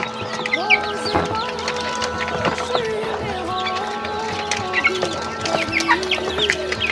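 Farm chickens cluck busily and close up while pecking at feed, with dense overlapping clucks and short calls rising over a constant background murmur.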